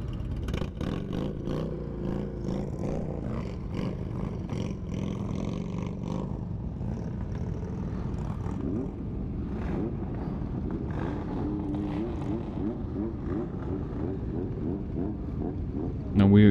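Many Indian motorcycles idle and rumble together in a crowded parking lot at a toy run, a steady low engine drone with wind buffeting the microphone and occasional voices underneath.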